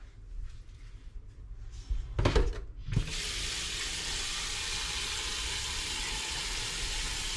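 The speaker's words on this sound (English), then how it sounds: "So I'm filling these with water," Water from a sink tap rushes steadily into a pot of oxtails, a continuous close hiss that starts after a few brief clunks and splashes and runs unbroken to the end.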